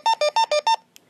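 A telephone ringing without stopping: five loud, close electronic tone bursts in a quick even rhythm, each a bright warbling beep, followed by a brief faint click.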